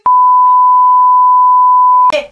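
A single loud, steady censor bleep tone holds for about two seconds, followed by a brief burst of speech.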